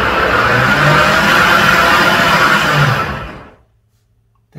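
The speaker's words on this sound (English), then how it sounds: "So, I'm ready to blend." A blender whirs loudly and steadily through a thick raw-egg protein shake, then winds down and stops after about three seconds, leaving near silence.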